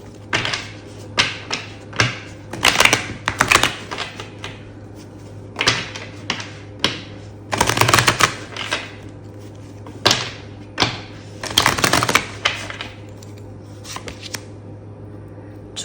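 Tarot cards get a hard shuffle in repeated bursts of riffling and bridging clatter, each flurry lasting a second or so and broken by short pauses, close up over a low steady hum.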